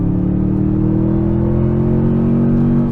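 A Toyota Tundra TRD Pro pickup accelerates hard from a launch, its engine a loud, steady low rumble and whir that pulls continuously for the whole stretch, close and unbroken, with no talk over it.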